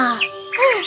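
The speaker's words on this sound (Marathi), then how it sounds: "ते दोघही पक्षाचं मधुर गाणं ऐकत झाडाखाली थांबले." A short, clear bird call of two bright chirping notes rings out alone as a sound effect within a narrated children's story.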